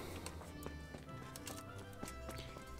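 Horse hooves clip-clop steadily in Kingdom Come: Deliverance, a faint rhythmic trot under a dense, continuous game soundscape, with no talk.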